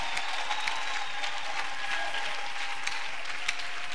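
Church congregation applauding in acclamation during a worship service, a steady wash of many hands clapping continuously, fairly loud and diffuse across the room.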